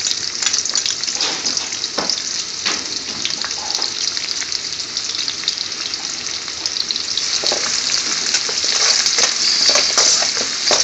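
Chopped garlic fries in hot vegetable oil with a steady, loud sizzle and crackle. Light stirring clicks and scrapes sound close up, with no talking.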